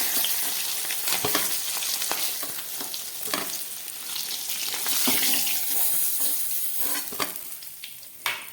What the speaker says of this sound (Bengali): এই তেলের মধ্যে আমি কপি আলুগুলোকে ভেজে নিচ্ছি।